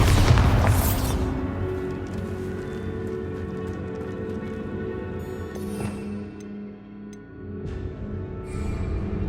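A Bombarda blasting spell detonates in the Hogwarts Legacy video game, a heavy close boom at the start that rolls off into a long rumbling tail with scattered rattling debris and no voices.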